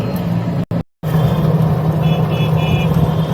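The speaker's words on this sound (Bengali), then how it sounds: "টোটো চালাচ্ছে তাড়াতাড়ি পৌঁছে যাব" A toto electric rickshaw on the road, a steady close motor and road hum with a short dropout and a faint horn-like tone partway through.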